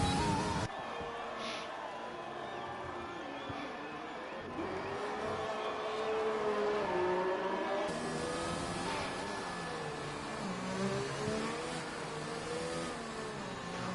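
Formula 1 car in a sim racing league event at a virtual Vietnam circuit, engine droning and shifting pitch steadily through the lap, with faint crowd noise in the background.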